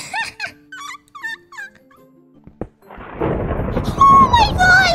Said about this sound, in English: Why is there thunder in this game?